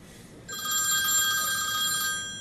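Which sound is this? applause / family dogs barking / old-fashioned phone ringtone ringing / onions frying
old-fashioned phone ringtone ringing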